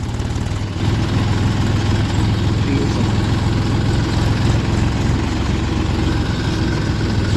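Mahindra 255 two-cylinder tractor engine running in second gear, a loud steady low chugging throb close by, continuous throughout.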